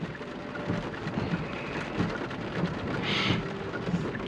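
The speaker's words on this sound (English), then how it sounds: "it's raining outside" Rain patters steadily on the body of an electric car, a 2024 Hyundai Kona EV, while soft rumbles of thunder roll outside, heard from inside the cabin at moderate level with no talk.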